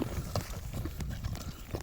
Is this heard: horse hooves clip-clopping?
yes